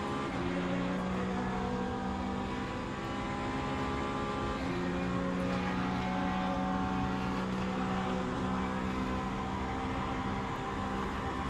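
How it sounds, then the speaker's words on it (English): A Lamborghini hypercar holds top speed in a racing video game, its engine a steady, loud sustained drone with layered harmonics and a brief dip in pitch midway, no voices. "So let's see the Lamborghini top speed."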